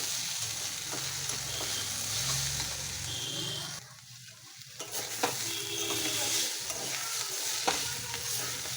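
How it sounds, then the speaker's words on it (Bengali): Food frying in a pan, a steady sizzle with stirring scrapes running throughout, briefly quieter midway before the hissing picks back up, with no talking. "ভাজাটা হয়ে গেছে, এবার আমি নামিয়ে ফেলবো।"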